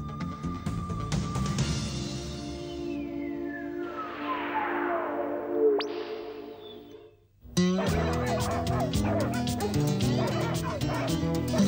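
A cocker spaniel barks and yips repeatedly with a few whimpers, loud and close, over a busy tonal background.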